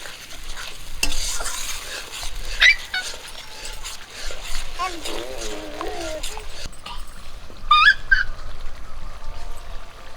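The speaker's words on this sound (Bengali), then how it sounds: "দইটা দেওয়ার পর এরকম করে নাড়তে থাকবো যাতে দইটা ফেটে না যায়" A spoon stirs yogurt into a rohu fish curry in a pan, making steady scraping and stirring sounds over a soft sizzle, with a few brief higher squeaks and whines mixed in.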